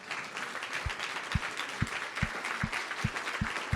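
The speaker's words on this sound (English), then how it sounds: "Let's give them a round of applause." An audience at a 20th anniversary celebration gives the board of directors and staff a round of applause, a steady wash of clapping with regular low thumps beating through it.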